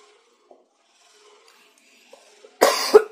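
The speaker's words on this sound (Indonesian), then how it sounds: "Aduh, maaf lagi batuk." Single person coughing once, loud and close, with a harsh burst and a second hack at the end, after near silence broken only by faint clicks.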